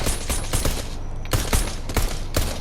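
Rapid bursts of gunfire in Fortnite, several clustered volleys of shots at close range, loud and steady across the stretch with no talking.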